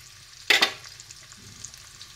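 Onion and garlic dropped into a hot pan, one sudden loud sizzling burst that quickly fades to a quiet, steady frying hiss.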